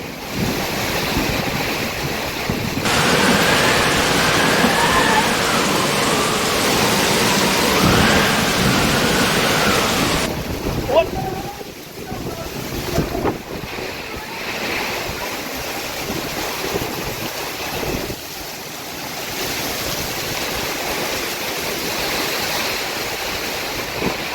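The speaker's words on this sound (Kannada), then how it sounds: "ಗಾಳಿ ಸಹಿತ ಭರ್ಜರಿಯಾದ ಮಳೆ." Heavy rain pours steadily with gusting wind over an areca nut plantation, a loud dense roar that eases into softer rainfall partway through.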